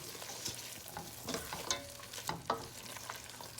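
Chicken with fresh thyme, stems and all, being stirred in a pot for a farm chicken stew: soft sizzling under intermittent spoon scrapes and clinks, close and moderately quiet, no talking.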